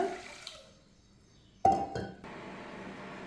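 Water splashes and pours into a metal pressure cooker after a faint clink, running steadily and close by.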